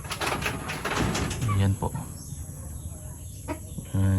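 Chickens cluck at a farmhouse, their calls mixed with someone speaking close by and bird and insect chatter in the background.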